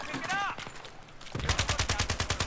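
Battlefield 3 Scar-L rifle fire, a rapid, regular burst of about a dozen sharp shots after an opening stretch of someone talking, loud and close.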